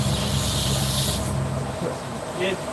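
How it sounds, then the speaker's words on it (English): An aerosol can of WD-40 hisses steadily onto a running Scotch-Brite abrasive belt during knife grinding, a close continuous spray over machine hum that cuts off partway, followed by faint noise. "spray them with a little bit of WD-40"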